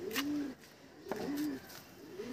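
Desi pigeons in a loft give repeated low, rolling coos in a steady rhythm, several calls close by with brief higher chirps between them and no talking.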